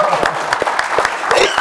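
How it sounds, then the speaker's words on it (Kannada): An audience at a Kannada film event bursts into applause, a dense patter of many hands clapping steadily for under two seconds, with voices faintly mixed in. "ಬರ್ಲಿ ಚಪ್ಪಾಳೆ ಸರ್"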